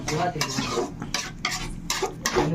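Fish curry boiling in a pot on a bachelor-room stove, with a steady bubbling hiss broken by repeated clattering scrapes of stirring against the pot, close and fairly loud.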